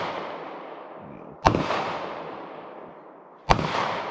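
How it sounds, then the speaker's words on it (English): Two loud, sharp rifle shots ring out from a Savage Axis chambered in 6.5 Creedmoor, about two seconds apart. Each crack is followed by a long rolling echo that fades across an open outdoor range. "he's going to shoot it for the first time"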